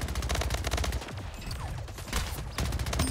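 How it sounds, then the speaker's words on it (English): Rapid SMG bursts in the arena shooter Splitgate, loud, close, fast-ticking fire in two runs separated by a short pause, with faint game effects between. "The SMG in Splitgate is an actual power weapon."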